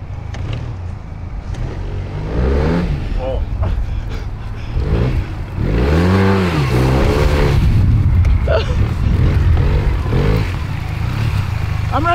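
A mangled Honda 600cc scooter's engine runs with a low, steady rumble beneath loud, animated voices and laughter close by.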